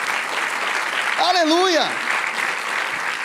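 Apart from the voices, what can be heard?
church congregation applauding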